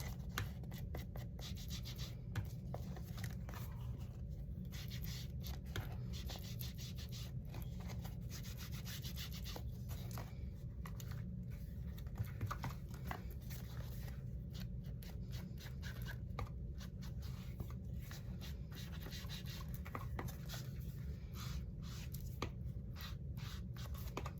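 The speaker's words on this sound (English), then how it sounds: "So I'm just gonna trim all around because we, you know, trim some of the paper." Steady, faint scraping and rubbing continues throughout as paper is trimmed around a paper towel roll flipbook, a soft, even texture with no talking.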